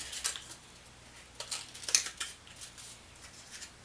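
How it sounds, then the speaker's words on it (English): A few crisp snips and papery crunches come in scattered bursts, scissors cutting a triangle out of accordion-folded paper, with quiet gaps between them. "you're going to take your scissors"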